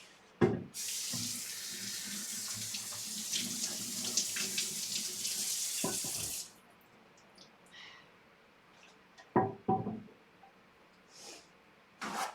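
Kitchen tap water running as something is rinsed under it, a loud steady splashing stream for several seconds, then shut off, followed by a few faint clunks and handling noises.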